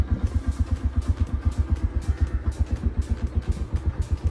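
Motorcycle engine idling steadily before a road trip, a close, even low-pitched thump-thump pulse repeating rapidly without pause, with no voices.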